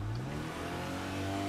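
A car engine revs steadily in the video game State of Decay 2, a sustained droning roar with the pitch gradually rising, close and continuous throughout.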